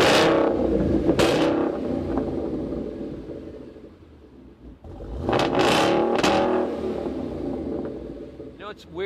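A Roush Stage 3 Mustang's engine fires up and revs, the rumble swelling, easing off, then rising again with sharp throttle blips. Loud and close, with people talking over it.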